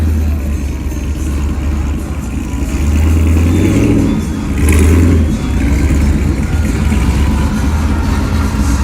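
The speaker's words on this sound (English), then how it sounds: "this truck leaving pretty good" A racing truck at a trackside event pulls away with its engine revving hard, a deep rumble that climbs in pitch twice and stays loud and close against steady crowd and track noise.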